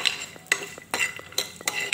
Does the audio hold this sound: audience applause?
no